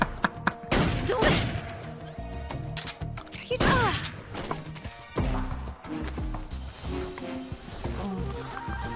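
Gunfire from a Metal Gear Solid game: several sharp shots ring out over busy layered game sound effects and music, loud and close, with a few scattered impacts.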